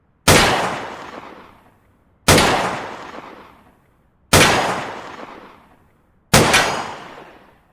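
Four evenly spaced pistol shots ring out from the VR shooting game Tactical Assault VR, each a sharp loud crack with a long decaying tail and silence between.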